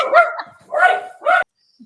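Puppy barking indoors: three short, high yappy barks in quick succession at close range, fairly loud, followed by a brief quiet moment.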